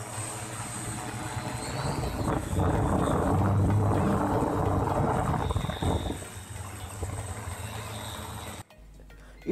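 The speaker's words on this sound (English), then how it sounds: "the drone going through the mission and completing it successfully" A Pixhawk-based multirotor drone flying an autonomous mission makes a continuous buzzing propeller drone that swells slightly midway, then cuts off abruptly near the end; no one speaks.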